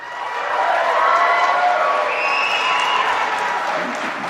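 A large audience at a conservative political debate breaks into sustained applause and cheering, a loud, dense wash of clapping that swells and then gradually tapers.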